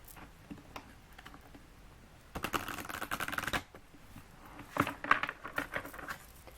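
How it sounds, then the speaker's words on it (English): Tarot cards shuffled and drawn from a deck, a quick papery riffle of crisp flutters lasting about a second, followed by a few soft card taps and slides, close and fairly quiet with no talking. "I'm going to get one of these cards now"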